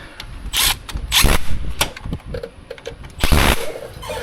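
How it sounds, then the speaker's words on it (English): A 1/4 inch impact driver tightens 8mm bolts during a Honda axle installation, giving several short, sharp bursts of rattling up close with brief quiet gaps between them. "with a good 1/4 inch impact, that is enough torque"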